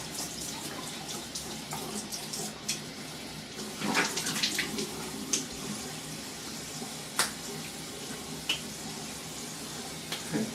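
A bathroom tap runs softly while someone rinses mid-shave with a Merkur Futur safety razor and Barrister and Mann soap, a faint steady water hiss broken by occasional splashes and clinks.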